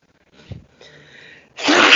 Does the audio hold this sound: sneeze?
yes